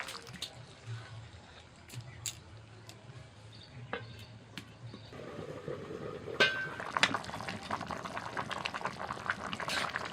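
Potatoes, soybean chunks and cauliflower simmer in spiced water in a pot, a quiet bubbling hiss punctuated by occasional clinks of a utensil against the pan, growing busier and louder toward the end.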